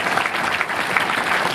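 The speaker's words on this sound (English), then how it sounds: "I think a round of applause for Mike Carey" A crowd at an X-Men comics convention panel applauds writer Mike Carey, a loud, close, continuous burst of many hands clapping with scattered sharp claps standing out.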